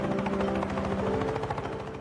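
A helicopter takes off with a loud, close, steady rotor chop and a droning engine whine that holds throughout the short stretch, with no voices.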